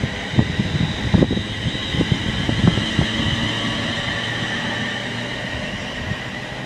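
A double-headed train passes on a railway, a rumbling run of wheel clatter and rail thumps in the first few seconds that fades into a steady, fainter hum.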